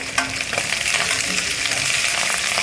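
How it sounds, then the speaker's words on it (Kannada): Curry leaves crackle and sizzle in hot oil in a pan for mango rice, a steady dense frying hiss with a few sharper pops near the start, close and continuous with no talking. "ಇವಾಗ ಇದಕ್ಕೆ ಕರಿಬೇವು ಸೊಪ್ಪನ್ನು ಹಾಕ್ತೀನಿ"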